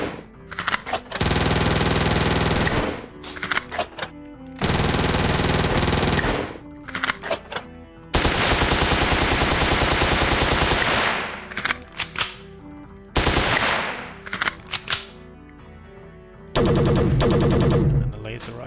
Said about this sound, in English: So, submachine gun.